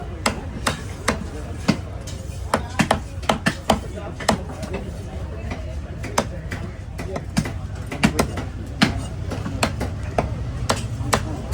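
A knife chops through barracuda fish at Kasimedu fish market, sharp repeated thwacks landing in uneven rhythm over a busy, noisy background of market chatter and people talking.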